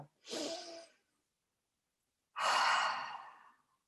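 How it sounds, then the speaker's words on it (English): Two deep breaths close to the listener, a shorter breathy inhale followed after a pause by a longer, fuller exhale, with silence between and no talking. "Let's take a deep breath together."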